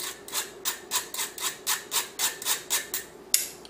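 The back of a spoon pushes cocoa powder through a mesh sieve in about a dozen rhythmic, evenly spaced scraping rubs, close and clear, ending with a sharp tap.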